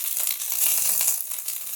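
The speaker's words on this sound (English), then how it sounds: "You want to hear that sizzle." Steady, crackling sizzle of steak searing in a hot frying pan, bright and close, with no voices.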